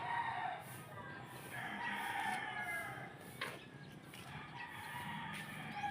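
Birds calling close by, with a rooster-like crow standing out over a steady outdoor background; no talking.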